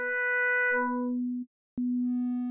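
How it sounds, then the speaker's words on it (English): Pure sine tones from the Meld synth in Ableton Live 12 with a wave-folding effect: a bright buzzy harmonic tone fades to a plain low sine, cuts out briefly, then returns and gradually gains upper harmonics, loud and alone. "So in a sine wave, you get this wave folding like effect."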